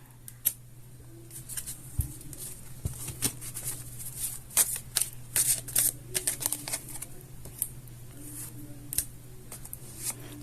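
Tarot cards being shuffled by hand, a soft papery riffling and flicking that comes in quick irregular bursts, fairly close and quiet over a steady low hum, with no talking.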